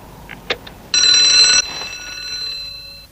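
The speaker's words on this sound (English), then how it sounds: "That sounded like the cable car alarm." A cable car alarm bell rings loud and close for under a second after a few short knocks, then leaves a fading metallic ring.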